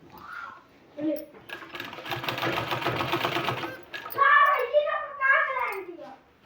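A sewing machine stitches a 2-inch wide strip onto a sleeve in one short, rapid burst of about two seconds, with a person talking before and after.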